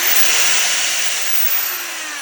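Bauer right angle drill from Harbor Freight running steadily at high speed, a loud continuous whine with a slight dip in pitch near the end, heard alone with no talk.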